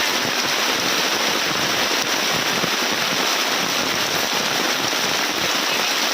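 Heavy rain pours steadily and loudly throughout, a dense close hiss with no clear pause, no voices.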